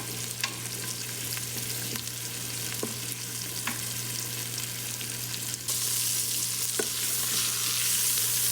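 Chicken thighs searing with garlic and onions in an Instant Pot, giving a steady dense sizzle with a constant low hum and a few faint utensil taps, growing slightly louder and brighter toward the end.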